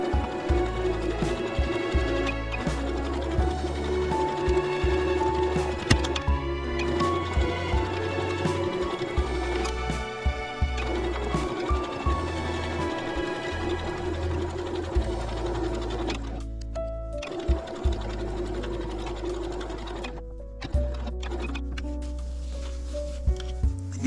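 A sewing machine stitches the seams of a pinwheel tapestry made from squares, running in long steady bursts of rapid mechanical chatter with brief pauses between passes, loud and close.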